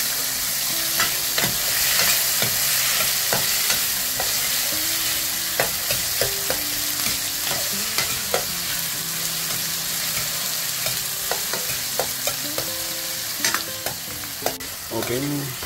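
A quarter kilo of tomatoes sautés in a pan for a mussel dish, frying with a continuous close sizzle while a utensil scrapes and knocks against the pan in frequent irregular strokes, with no voices.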